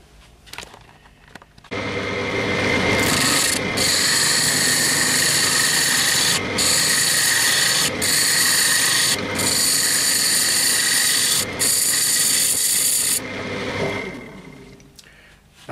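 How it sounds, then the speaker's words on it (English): A wood lathe turning a laurel box lid, with a steady loud roar and rasping scrape of a tool on spinning wood, broken by several brief dips, then winding down. "I'm going to take the box off now and do a bit of shaping on the lid"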